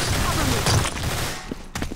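Gunfire from the Counter-Strike: Source game, a burst of dense overlapping shots packed into two seconds, with a few sharper single cracks trailing off at the end.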